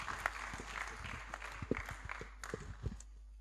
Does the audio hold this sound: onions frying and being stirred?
no